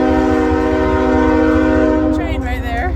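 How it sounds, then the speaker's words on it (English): Train horn blaring loud and close over the rumble of a passing train near Harpers Ferry, the sustained chord-like blast fading toward the end as a voice speaks. "train right there."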